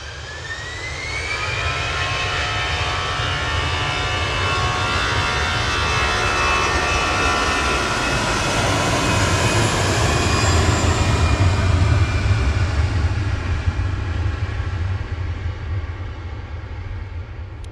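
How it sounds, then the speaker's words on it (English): An easyJet Airbus A320 Classic departing Manchester Airport for Barcelona, a loud, close jet roar with a rising whine that swells and sustains as it climbs away, filling the whole stretch. "EasyJet 2001 to Barcelona, GZUI A320 Classic, going now"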